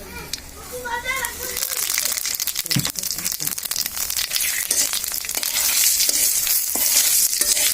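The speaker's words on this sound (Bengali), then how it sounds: "এখন আমরা দিয়ে দিব তেজপাতা আর হচ্ছে শুকনো লঙ্কা, আর দিয়ে দিব ওখানে জিরা" Bay leaf, dried red chilli and cumin seeds drop into hot oil in a pan and crackle with dense, bright sizzling that swells louder toward the end, broken by scraping stirs and a few clattering knocks.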